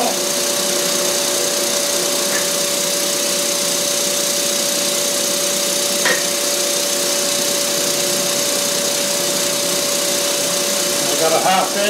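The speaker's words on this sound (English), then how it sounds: "I got a ½ inch 3-flute carbide end mill in there." A milling machine fitted with a ½-inch three-flute carbide end mill feeds down into the workpiece of a slotted machinist jack base with the Y-axis locked, making a steady, loud, continuous whine and hum with a few faint ticks.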